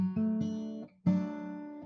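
Clean guitar triad on the 4th, 3rd and 2nd strings picked a couple of times, then strummed once more and allowed to ring briefly; warm, mid-range, quiet, no speech.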